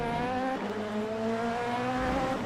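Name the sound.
race car engine in Le Mans Ultimate video game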